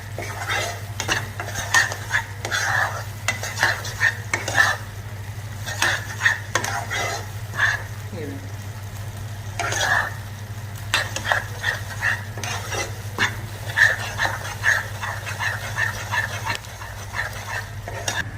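Semolina roasting in ghee on low flame, stirred continuously with a metal spoon that scrapes and clinks against the pan, a low steady hum and faint sizzle underneath, close with no voices.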